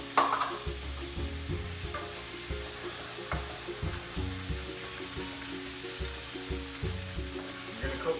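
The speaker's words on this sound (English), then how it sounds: "So once we got a nice hot pan there, we're going to add our garlic ginger paste." Garlic ginger paste frying in a hot pan for Thai beef noodles, a steady sizzle with intermittent scraping and stirring strokes and low rhythmic knocks throughout.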